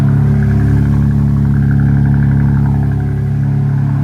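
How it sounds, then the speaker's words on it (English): A BMW M4's engine rumbles loudly and steadily up close, a deep sustained idle-like roar with no talking over it. "Hold up, the car is so loud."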